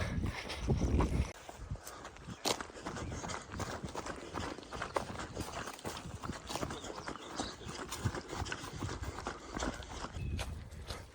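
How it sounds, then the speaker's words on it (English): Cows walking along a mountain trail, a steady run of close hoof clops and thuds over dirt, with scuffing and movement noise throughout. "chasing some cows down the trail"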